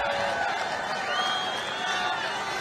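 A large outdoor rally crowd for Trump at a hangar in Freeland, Michigan, cheers and applauds in a steady, dense roar, with talk and shouts mixed into the noise throughout.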